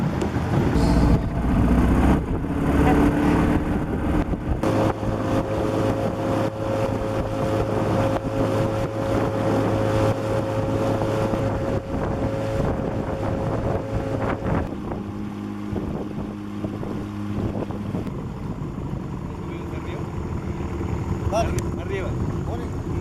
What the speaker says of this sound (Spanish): donde pasaremos en canoa el imponente río